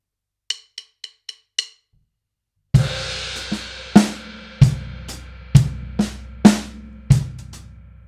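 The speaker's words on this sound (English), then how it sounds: "On the first one, which starts on the beat number 4, we're going to play a hi-hat and a bass drum." Drum kit groove played alone after a few sharp clicks: steady hi-hat strokes with punchy bass drum hits landing roughly every half second, plus quieter ghosted snare touches between them.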